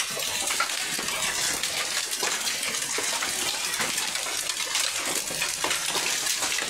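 Heavy rain pours down steadily with hailstones falling among it, a dense, continuous hiss and patter with scattered sharper impacts throughout, loud and close with no voices.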